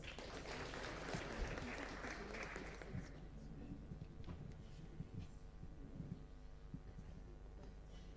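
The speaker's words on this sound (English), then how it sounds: "Another round of applause." A round of applause rises in the Kenyan National Assembly chamber, dense clapping at first that thins into scattered claps with faint murmuring and room noise.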